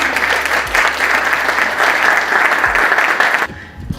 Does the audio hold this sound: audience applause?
yes